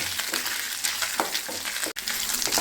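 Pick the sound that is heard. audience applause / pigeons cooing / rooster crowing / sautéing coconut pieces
sautéing coconut pieces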